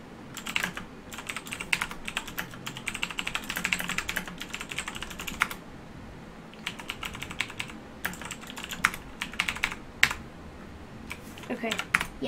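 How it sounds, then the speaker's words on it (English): Typing on a computer keyboard in bursts of rapid clicks with short pauses, close and fairly loud against a quiet room during a Roblox game, with no talking. "Sorry, I stopped talking. I was typing."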